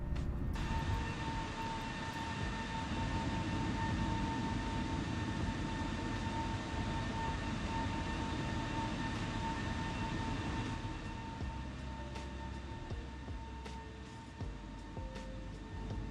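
An Air New Zealand A320neo taking off in Microsoft Flight Simulator at dawn from Auckland, heard as a steady, loud broadband engine roar with a faint high whine that stays even throughout and softens slightly near the end.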